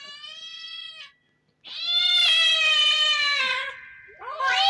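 A human voice imitates kittens crying, giving two drawn-out, high wavering mewing wails, the second loud and long, with another starting at the end after a short silence.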